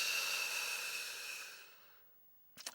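A long, steady breath drawn in through the mouth, airy and close, fades out over about two seconds, followed by a brief pause and a short sharper breath at the end.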